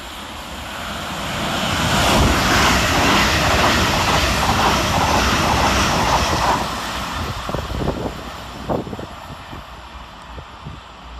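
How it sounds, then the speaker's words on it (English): Gatwick Express class 387 electric units run through Hassocks railway station, a loud rising roar of wheels and rushing air that peaks, then fades as the train pulls away, with a few rail clacks near the end. "Whilst going in the opposite direction is 387224 and 387204, working 1 Whiskey 80 for Gatwick Express from London Victoria to Brighton"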